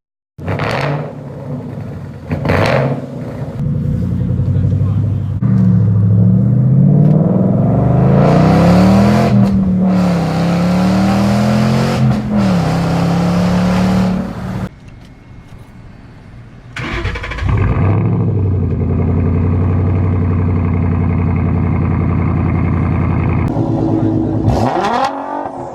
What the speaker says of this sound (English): I'm cutting the resonators off the Mustang because I need more loud.